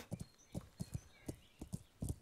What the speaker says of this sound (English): This horse is a little crazy. Let's try to get in a good gallop though.